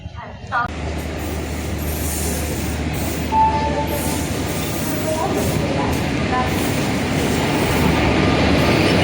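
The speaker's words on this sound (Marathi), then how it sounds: "आली तर ट्रेन बघा." A Konkan Railway train rumbles steadily past nearby at a station platform with clattering wheels and a brief metallic squeal, over a busy crowd murmur.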